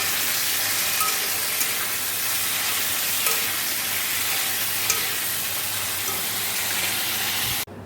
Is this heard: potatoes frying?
yes